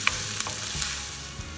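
Chopped onion sizzles in hot oil with browned cumin and mustard seeds, a steady close frying hiss with a few soft scrapes and knocks as it is stirred around the pan.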